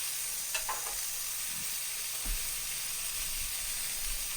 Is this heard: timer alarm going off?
no